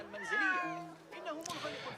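Cat meowing in an Assassin's Creed game set in Baghdad, a clear drawn-out meow followed by a shorter second one, near and fairly loud, with a voice talking alongside.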